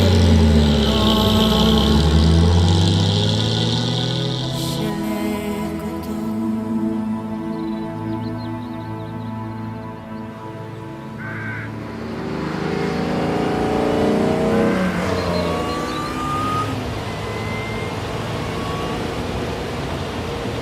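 Classic racing car driven through countryside, its engine revving, accelerating and shifting through gears, loud and close with the pitch rising and falling over about twenty seconds; no voices.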